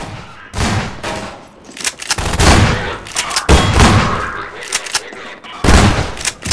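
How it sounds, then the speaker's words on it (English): Shotgun blasts in the video game Half-Life 2 with a VR mod, loud booming shots spaced irregularly over several seconds, each with a sharp crack and short rumbling tail. "Bit of shotgun action here,"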